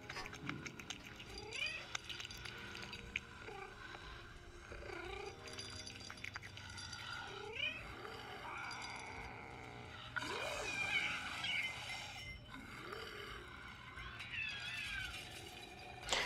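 A cat meows repeatedly in the video game Dead Island 2, several drawn-out cries spaced over steady background noise, some rising into wails.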